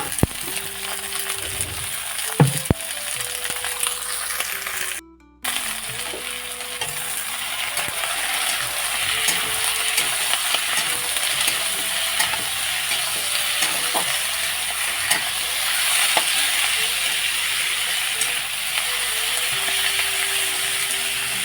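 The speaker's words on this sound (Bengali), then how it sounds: "এখন আমি চিকেনটাও দিয়ে দিচ্ছি" Chicken sizzles and fries in a pan for chicken chorchori, a steady loud crackle with scraping and stirring clinks from a utensil against the pan throughout.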